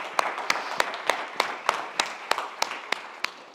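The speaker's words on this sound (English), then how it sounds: "I just want to give a round of applause to everybody who's been here trying to" Audience applause at a conference summit in San Juan, Puerto Rico, with evenly spaced sharp claps standing out above a steady wash of crowd clapping throughout.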